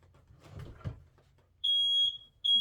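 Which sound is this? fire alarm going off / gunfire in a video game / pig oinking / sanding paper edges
fire alarm going off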